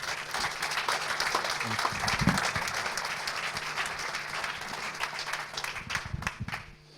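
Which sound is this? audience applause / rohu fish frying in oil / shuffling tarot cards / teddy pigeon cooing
audience applause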